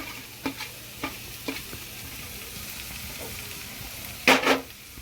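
Onion, garlic, green chilli and capsicum fry in oil with a soft continuous sizzle, a few faint stirring taps spaced out, and a sharp loud double clatter of the spoon near the end.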